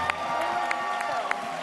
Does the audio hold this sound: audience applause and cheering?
yes